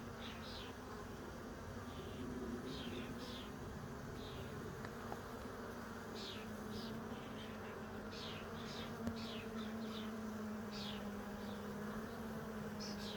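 Honey bees hum steadily during a hive inspection, a faint continuous drone with occasional individual bees buzzing closer in short passes, no talk.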